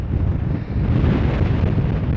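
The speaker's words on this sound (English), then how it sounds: "here's the wind." Strong wind buffets the microphone on a seaside jetty, a loud, continuous low roar and rumble with gusty swells, nothing else audible over it.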